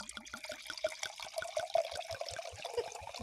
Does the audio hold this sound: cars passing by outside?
no